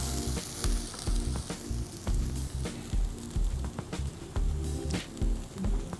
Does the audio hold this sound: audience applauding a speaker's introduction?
no